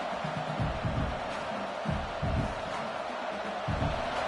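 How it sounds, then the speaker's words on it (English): Big college football stadium crowd roaring as the defense holds near the goal line in an LSU game, a continuous wash of cheering with louder surges, broad and distant-sounding. "And this big crowd doing everything possible to inspire this defense down here near the goal line."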